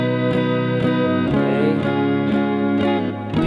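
Acoustic-style guitar strums the pre-chorus chords of a song, a steady progression of ringing chords with rhythmic downstrokes, played alone, close and clear.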